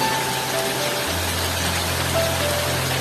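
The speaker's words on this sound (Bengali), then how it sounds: "আবার ঝমঝমিয়ে বৃষ্টি শুরু হয়ে গেল" A heavy rain shower pours down outside a house, a dense steady hiss with a low hum underneath, no talk.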